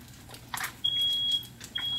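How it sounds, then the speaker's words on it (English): A home smoke alarm set off by kitchen cooking smoke gives sharp high electronic beeps, two long piercing tones after a short chirp, with no talking. "my fire alarm lying on me"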